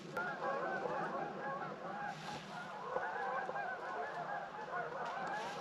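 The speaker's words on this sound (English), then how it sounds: "A bunch of geese are flying over." Honking from a flock of geese passing overhead, heard from inside a warming camping tent: a steady, continuous chorus of overlapping calls at moderate distance, sustained throughout.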